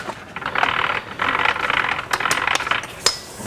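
Supercharger on a 2006 Mini Cooper JCW winding down after its drive belt is cut, a close rattling mechanical whir in uneven bursts with clicks and a sharp metallic tick near the end.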